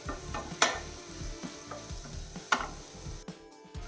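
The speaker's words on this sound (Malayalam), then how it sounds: "നല്ലപോലെ ഒന്ന് ഇതിൻ്റെയൊക്കെ പച്ചമണം മാറുന്നവരെ വരെ ഒന്ന് വഴറ്റിയെടുക്കണം" Masala with Kashmiri chili powder sautéing in a pan for an egg roast, giving a soft sizzle under intermittent spatula strokes and a couple of sharp metallic taps against the pan.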